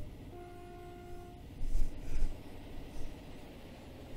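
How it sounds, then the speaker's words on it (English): A train horn sounds a sustained tone in Train Simulator 2016 on the London to Bedford route, followed by rumbling bursts as a fast train passes amid steady engine drone. "Let's honk our horns while we go,"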